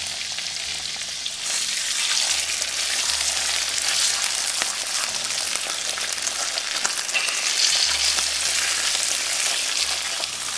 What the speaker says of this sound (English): now I'm just gonna cook them about a minute on each side